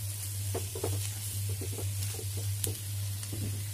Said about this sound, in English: saute the dry spices.